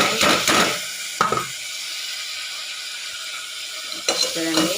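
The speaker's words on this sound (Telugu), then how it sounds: "అల్లం పేస్ట్ వేసుకొని ఇలా ఫ్రై చేసుకోవాలి లో ఫ్లేమ్లో పెట్టుకొని ఫ్రై చేసుకోవాలి" Ginger paste frying on a low flame for an Andhra-style ginger curry, a soft sizzle with a couple of brief spatula stirs and scrapes near the start and end, quiet in between.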